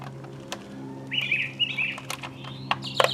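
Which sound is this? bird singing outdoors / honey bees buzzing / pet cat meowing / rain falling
bird singing outdoors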